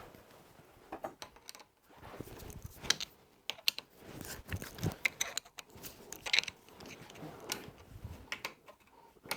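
A steam valve is turned back and forth with a screwdriver blade in its slot, grinding against valve paste in irregular scratchy, clicking strokes with pauses, close and fairly faint.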